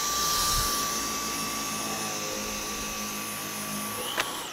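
Dyson V10 Animal cordless vacuum cleaner running, a loud steady high-pitched motor whine with a constant tone, close up and alone, ending with a brief click.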